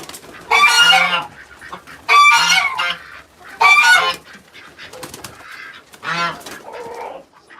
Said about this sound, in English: There's my 2 geese.